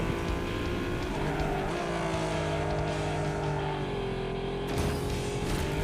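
A racing car in the Ace Racer video game holds a continuous engine drone with shifting pitch, steady and moderately loud, with a brief burst of broadband noise near the end.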